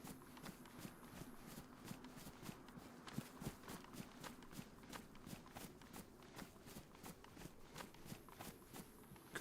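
Footsteps in the survival video game DayZ, a faint, steady series of soft thudding steps repeating at a walking pace, quiet and somewhat distant.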